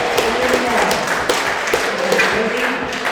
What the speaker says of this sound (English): And we hear the reaction from the crowd there.